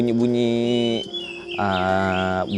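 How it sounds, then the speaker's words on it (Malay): Village chickens crowing nearby, two loud, drawn-out, pitched calls separated by a short pause. "Bunyi ayam tapi ayam tak nampak."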